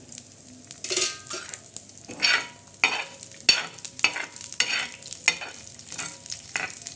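Onion sizzles in oil in a pan for bitter gourd masala while a spoon repeatedly stirs and scrapes, producing rhythmic bursts of frying hiss and utensil scraping close up.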